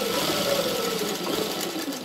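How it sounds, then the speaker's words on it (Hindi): A sewing machine hums steadily while double-stitching a bell sleeve, a continuous close motor whir over the whole brief moment with no voices. "इसको डबल सिलाई से इस तरह से लगा लेंगे।"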